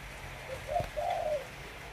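Caged wild-caught birds give soft cooing calls: a short low note followed by a longer drawn-out coo, close and fairly quiet over a faint background hum, with no talking.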